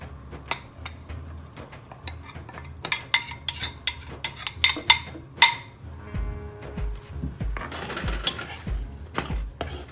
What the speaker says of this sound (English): for this I'm going to roast the rice flour